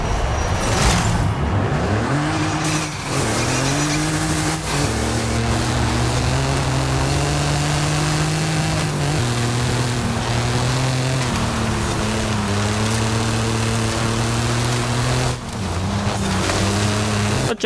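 A Mitsubishi Pajero Evolution engine races in Forza, loud and continuous, its pitch climbing and dropping through repeated gear shifts as the race goes on.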